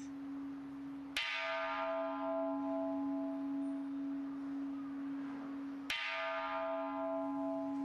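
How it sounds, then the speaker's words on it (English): Buddhist temple bell struck twice to open a service, each strike a sharp attack followed by a long ringing, humming decay, the second hit about five seconds after the first, with no talk. "They start the service with the temple bell."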